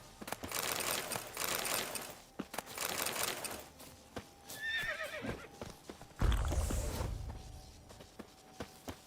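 Roach, a horse in The Witcher 3: Wild Hunt, neighs with a rising whinny midway, amid clip-clopping hooves and rustling, with a heavy thud near the end.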